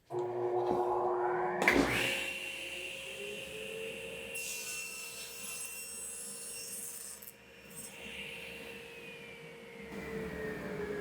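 Table saw crosscutting zebrawood with a miter gauge fence and a zero-clearance insert: the motor whines up, the blade bites into the wood with a rasping cut, then the motor runs on and spins down.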